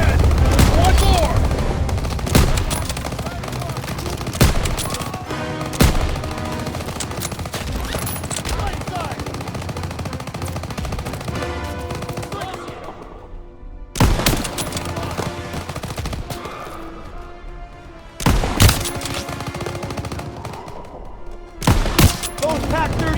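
Battlefield gunfire in the World War II shooter Call of Duty WWII crackles in repeated bursts and sharp single shots, loud and near, with shouted voices and brief lulls between volleys.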